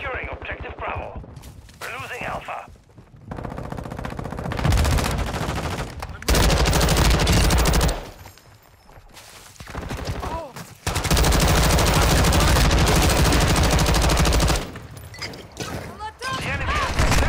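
A light machine gun fires in Call of Duty Modern Warfare II, long loud automatic bursts separated by short pauses, with voices talking over the action.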